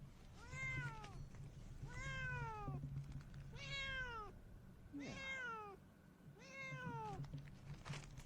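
A house cat meows five times in long, drawn-out, rising-and-falling calls, spaced about every one and a half seconds, close and clear over a low background hum, with a single brief spoken word.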